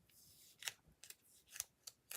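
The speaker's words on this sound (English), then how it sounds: "Let me get my scissors." Scissors are handled up close, giving five or six sharp metallic snips and clicks at irregular intervals, quiet and isolated.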